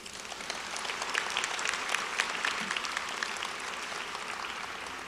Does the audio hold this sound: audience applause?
yes